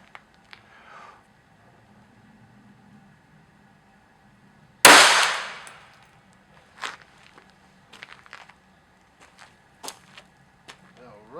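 A single loud, sharp gunshot from a .25 auto pistol cracks out and decays over about a second, followed by faint scattered clicks, footsteps and handling noises.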